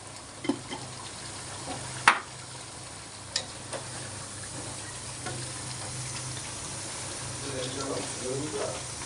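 Beef curry with jackfruit cooking in a pan, a low simmering sizzle with a few sharp spoon knocks early on and faint stirring after that, a voice murmuring quietly in the background.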